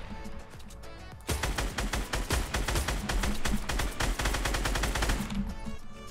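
Rapid gunfire in the video game Fortnite, a dense barrage of loud, overlapping shots starting after about a second and continuing almost without pause before tapering off at the end, with no talk.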